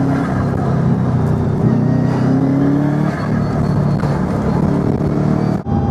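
1998 Subaru Impreza WRX GC8 turbo engine pulling at full throttle, a loud sustained roar from inside the car with engine tones climbing steadily in pitch over several seconds, no talking.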